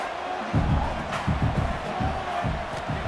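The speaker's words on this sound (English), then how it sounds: "if you listen carefully, you can start to hear some of the boo birds coming out from this home crowd" A home crowd in the EA Sports College Football 26 video game lets out a steady, low rumble of booing late in a game, sustained and moderately loud for a few seconds with pulsing swells.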